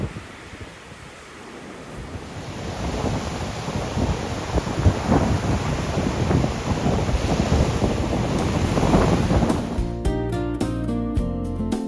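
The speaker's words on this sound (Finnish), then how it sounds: "Aika hurja tuuli ja aika hurjat aallot lyö tähän rantaan." Strong wind buffets the microphone as rough waves crash and surge onto a beach at Trouville, France, loud and continuous, before music briefly begins at the end.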